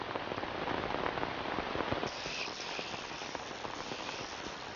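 Heavy rain pours down during a storm in the Scottish wild, a dense, continuous hiss of drops on surfaces that is loud at first and then eases slightly, with no voices.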